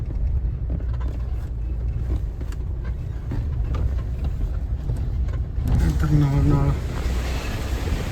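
A mountain river flowing near Gurdwara Sri Toka Sahib with a steady, rushing roar that swells a little near the end, where a voice briefly speaks over it.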